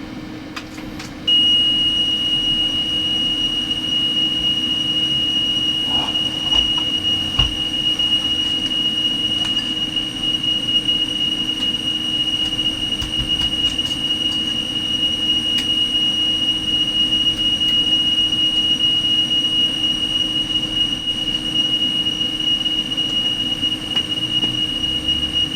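A Sony TC-K611S cassette deck motor runs after a drop of lubricant, a steady high-pitched whine over a low hum that holds constant for about twenty-five seconds, close up with no talking.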